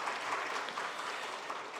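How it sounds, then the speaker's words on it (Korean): A church congregation at a Sunday evening service claps together in sustained, dense applause, a continuous even patter from many hands in a large room with no voices over it. "감사의 박수를 하겠습니다"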